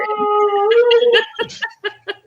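A dog howls along with sirens in a long, wavering tone that rises slightly, then breaks into a few short yelps and whines, loud and close.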